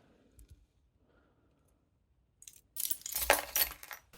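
A bunch of keys jangles briefly and brightly up close after a few quiet seconds, metallic clinks shaking for about a second.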